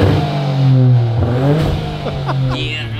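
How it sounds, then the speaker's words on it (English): A Nissan Skyline R34 GT-R engine revs up and down near a dealer lot in Japan, its pitch rising and falling in loud sweeps over a steady idle, with brief chatter around it. "You fire this thing up? Ooh. Man, it sounds good."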